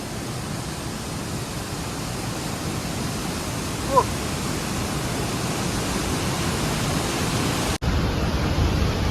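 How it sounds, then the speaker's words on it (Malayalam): Water rushes from two open shutters of a full dam in rainy Idukki, a loud, unbroken roar of steady noise with one brief blip midway and a short dropout near the end. "ഇവിടുന്ന് നടുക്കായതുകൊണ്ട് രണ്ട് ഷട്ടറിലെ വെള്ളം ഒന്നിച്ചു പോകുന്നതാണ് കേട്ടോ"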